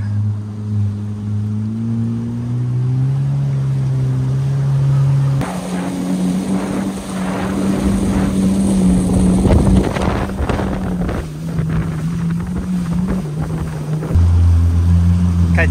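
A fishing boat motor drones steadily with shifting pitch off Rottnest, mixed with wind buffeting and splashing water, loud and close throughout.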